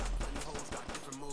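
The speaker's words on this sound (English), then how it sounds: "You can spam this pistol right here." A pistol in the game Tyrone vs Cops is fired rapidly, giving a quick run of soft, closely spaced pops over a dense game backdrop.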